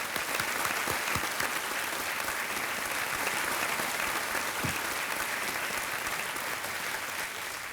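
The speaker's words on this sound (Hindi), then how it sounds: "तालियां बजते रहे इति के लिए" A studio audience on the quiz show Kaun Banega Crorepati gives sustained applause: a thick, even roar of clapping hands that holds steady for several seconds, with no talking over it.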